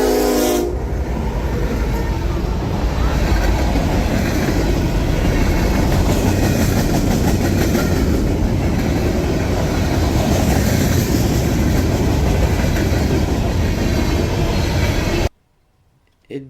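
Norfolk Southern freight train 315 rolls past with NS 1071, the CNJ Heritage Unit, in the lead, sounding its horn before a loud continuous rumble and rail clatter that ends abruptly.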